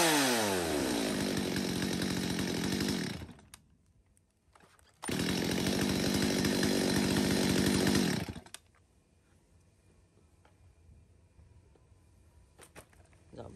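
A used Japanese-import chainsaw roars at full throttle for about three seconds, drops off, then revs hard again for another three seconds before settling into a quiet idle with faint ticking.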